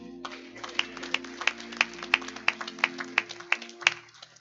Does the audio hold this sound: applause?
yes